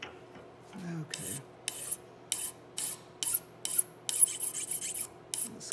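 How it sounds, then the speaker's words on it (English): A hand file rasps across a metal workpiece clamped in a vise while parts for a colonial kit are fitted, making about a dozen steady, evenly spaced strokes that sound close and crisp in a quiet room. "it's much easier to control filing when you clamp something up properly"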